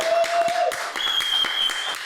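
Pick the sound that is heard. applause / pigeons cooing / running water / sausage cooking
applause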